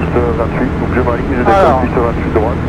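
Light aircraft flying a touch-and-go landing circuit, its engine droning steadily and close with some wind buffeting, while people talk over it from inside the cockpit.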